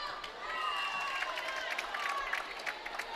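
A crowd in a school gym at a high school volleyball game, with a steady murmur of cheering and clapping heard from a distance behind a nearby voice, plus squeaks from the court.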